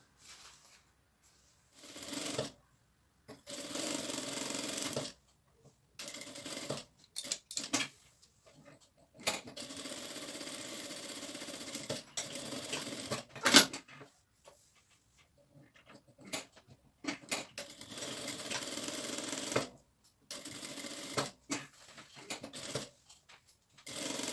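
A sewing machine stitches the side seam of a fabric piece in quiet, stop-start bursts of whirring, separated by short pauses over about twenty seconds.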